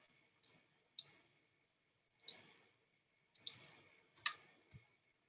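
Computer mouse clicks, sharp and fairly faint, arriving in small irregular bursts of one to three over several seconds in a quiet room.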